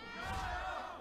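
An esports arena crowd at a League of Legends LPL match, RNG versus JD Gaming, roars in a brief, dense, loud swell of massed voices.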